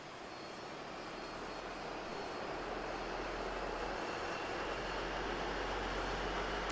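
A loud, continuous Dash 8 turboprop engine roar in a flight simulator, with a steady droning hum that slowly builds, close and unbroken, with no voices.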